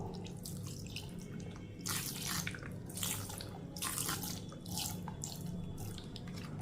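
Liquid poured into a mixing bowl while making a homemade skin cream, a soft continuous trickle and splash in pulsing waves, fairly quiet and close, with no voices.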